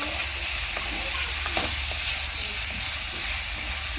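Tomatoes frying in a pan for a fish curry are stirred, giving a steady loud sizzle and hiss with faint scraping strokes throughout, close up and with no talking.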